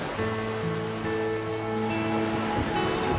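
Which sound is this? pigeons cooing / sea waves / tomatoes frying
sea waves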